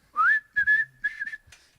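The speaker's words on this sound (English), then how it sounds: "A nice little whistle." A person whistles a short, bright tune alone, a few sliding and sustained notes with small breaks between phrases, close and clear.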